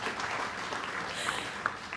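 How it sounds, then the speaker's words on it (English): Steady audience applause at a neuromarketing lecture event, a fairly faint, continuous wash of clapping from a crowd throughout. "Another round of applause."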